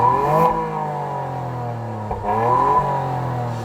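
Red Toyota GR Yaris revving hard through a loud aftermarket exhaust, two rising throttle blips with a brief drop between, close and loud.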